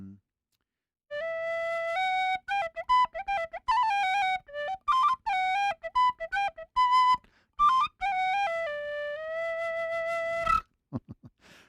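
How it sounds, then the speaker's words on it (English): A bright penny whistle plays a lively melody of quick ornamented notes and held tones, close and clear, ending in a few short breathy blips. "they're both penny whistles, and that's an instrument from Ireland"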